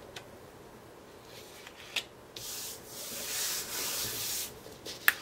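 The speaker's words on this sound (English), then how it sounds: "I'm going to go ahead and adhere the white down to the page, down to the red actually" White paper is rubbed down by hand onto red cardstock, a soft close scraping swish that swells in the middle, with a few light taps.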